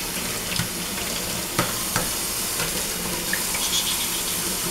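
Running water pours steadily over a Yorkie being bathed in a sink, a constant broadband hiss with a few small splashes and knocks, close and loud with no speech.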